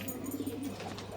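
A pigeon gives a brief, soft coo, faint and close, heard on its own for about a second.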